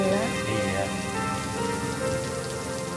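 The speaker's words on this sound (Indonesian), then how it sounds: "Alhamdulillah ya Bu, udah musim hujan." Rain falls steadily at the start of the rainy season in an Indonesian drama. The patter on surfaces is even and continuous, with faint tonal sounds underneath and no talking.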